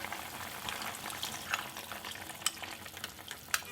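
Spicy village-style chicken with bamboo shoot and rice flour paste cooks in a pot while it is gently stirred. The sound is a soft, low bubbling and simmering with faint, scattered clicks from the spoon. No voices.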